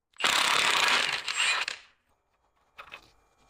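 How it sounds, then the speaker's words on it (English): An impact wrench buzzes loudly for about a second and a half, spinning off a 30mm 12-point rear axle nut on a 2001 Mercedes-Benz W210 E55 AMG, followed by silence and a brief metallic clatter. "The first step in the process is to remove the axle nut, and it's a 30mm 12-point"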